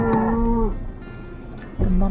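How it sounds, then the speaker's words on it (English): Mother cows mooing in Utah near Zion and Bryce Canyon National Parks: a loud, close, drawn-out moo, then a short pause and the start of another deep moo. "Oh, the mama cows are yelling at them."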